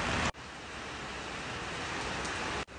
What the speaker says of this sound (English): I love the sound of the rain when it hits the metal roof of the barn.